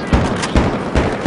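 Gunfire in Battlefield 3 on the Grand Bazaar map during a competitive clan match: three sharp, loud shots or blasts spaced about half a second apart over a dense, noisy battle background.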